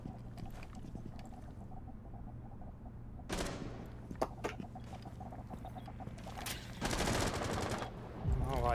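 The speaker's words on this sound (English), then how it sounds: "Oh, I just shot him like 30 times." Gunfire from Rainbow Six Siege, with several bursts of rapid shots and a few sharp single cracks. The shots are spaced out over a quiet background, and the louder bursts come near the middle and the end.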